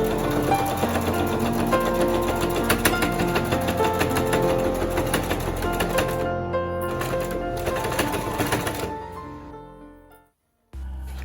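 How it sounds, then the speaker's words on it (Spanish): A sewing machine stitching thick fabric around the edge of a small wallet, with a rapid, steady mechanical chatter heard up close and loud for about ten seconds. The stitching then stops briefly before a low hum resumes. "vamos a coser en todo alrededor hasta la parte de arriba"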